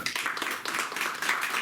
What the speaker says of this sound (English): let us give a hand of applause to Andrew